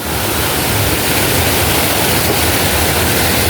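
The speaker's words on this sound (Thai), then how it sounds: "ตรงนี้เป็น น้ำตกน้อย" A small waterfall in Phu Hin Rong Kla National Park pours in a steady, loud, unbroken rush of broadband water noise, close by and with no voices.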